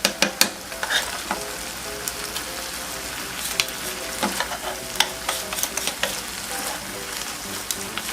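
Sugar and sweetener stir-fried in a pan until dry, a steady close sizzle broken by frequent sharp scraping clicks of a spatula against the pan.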